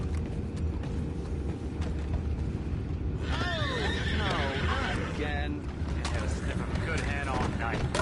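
A horse whinnies loudly in a video game over a continuous low rumble, followed by a second shorter neigh, with creaking and mechanical noises in the background.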